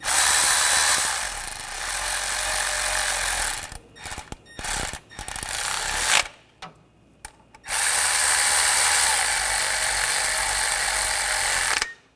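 Hand tools working on the timing belt bolts of a Honda Pilot V6 during a timing belt and water pump job: a steady mechanical whirring and clicking, broken by short pauses and gaps in the middle, then a steady run again.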